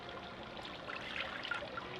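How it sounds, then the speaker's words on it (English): A cup of water pours into a pot set over medium heat on a stove, giving a soft, close, steady trickling splash for about two seconds with no talk. "to that we're going to be adding in 1 cup of water"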